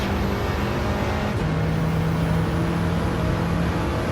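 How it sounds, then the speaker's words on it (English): A Volkswagen Golf in Gran Turismo 7 climbs a hill with wheel spin, its engine holding a steady, strained drone with a faint tone shift partway through, loud and continuous with no talk. "wheel spin all the way up the hill. Come on, little Golf."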